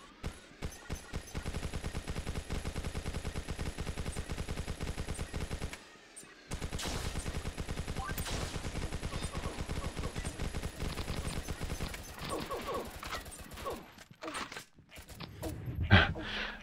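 Rapid automatic gunfire rattles steadily in the War Of Toys game, a continuous close stream of shots that breaks briefly, resumes, then thins into scattered bursts and a final louder blast.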